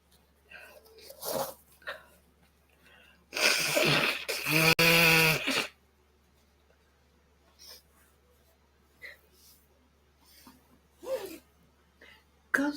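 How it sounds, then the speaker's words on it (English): A loud, drawn-out nose blow into a tissue, preceded by a sniff and followed by quieter rustling and a few short breaths. "Sorry, I need to blow my nose."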